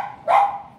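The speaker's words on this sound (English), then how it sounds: "Oh, that's my cat and dog playing together." One short bark from a dog playing with a cat indoors, a single clear yip, close and fairly loud.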